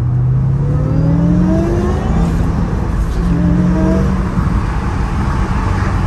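A car engine revs up through rising, throaty exhaust tones, loud and close, with the pitch climbing and dropping several times.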